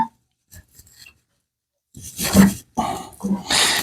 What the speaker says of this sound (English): now I'm going to switch back to my spindle gouge